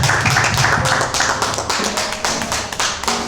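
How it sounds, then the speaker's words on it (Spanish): Church congregation clapping during a worship service, a dense run of hand claps that fills the space, with some voices faintly under it. "aplauda más fuerte a Cristo"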